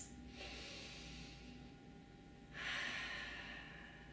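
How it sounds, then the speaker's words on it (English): Deep breathing during an inner-thigh stretch, with a long, soft inhale followed by a stronger, breathy exhale, close and quiet with no talking. "So deep breaths."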